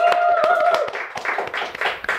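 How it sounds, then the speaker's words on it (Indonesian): A studio comedy talk-show audience claps for guest Jarwo Kwat, starting with a few distinct sharp claps before blending into a looser, denser patter of applause. "tepuk tangan buat Bang Jarwo kuat."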